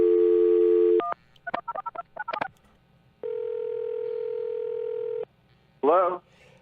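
Telephone dialing for a radio interview call: a steady dial tone, then a quick burst of DTMF keypad beeps, a long ringback tone and a brief warbling sound, all clear and close with no voices over them.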